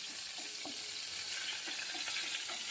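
Pointed gourd and potato pieces fry in hot oil with a steady, close sizzle, broken by a few soft clicks of stirring. No one speaks.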